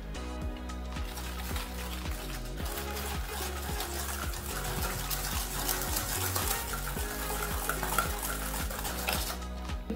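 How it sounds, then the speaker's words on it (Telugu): Eggs are beaten into sponge cake batter in a bowl, a busy run of quick clinking and scraping strokes against the bowl, close and continuous throughout with no talking. "ఇప్పుడు మనం బాగా మిక్స్ చేసుకుందాము."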